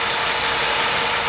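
A 1994 Lincoln Continental's V6 engine runs at a steady idle, a constant hum with a faint rattling texture and no change in pitch.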